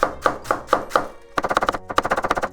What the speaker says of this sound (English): So then I'm going to cut these into thin slices.